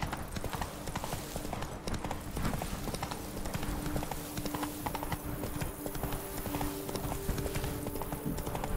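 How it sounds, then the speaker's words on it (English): Horse hooves galloping in The Witcher video game, a steady fast clip-clop drumming throughout over a dense outdoor game soundscape, with no one talking. "Come on there, Roach. We got work to do."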